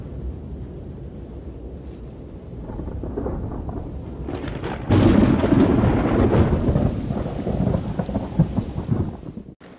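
Heavy rain with rolling thunder fills a museum exhibition's immersive digital space, a steady wash of downpour swelling into a loud, close crash of thunder midway before fading out.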